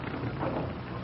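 Radio drama effect of rain and wind, a dense, even hiss of falling rain with gusty noise, steady and fairly soft throughout, with no voices.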